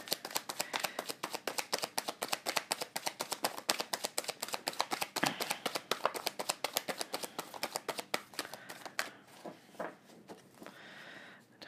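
Tarot cards are shuffled rapidly, a quick run of crisp riffling flutters close by that slows and fades toward the end.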